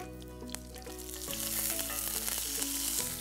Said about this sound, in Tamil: காய்ந்த மிளகாய் நல்லா பொரிஞ்சு வர நேரத்தில் நம்ம இந்த கருவேப்பிலையும் சேர்த்துக்கலாம்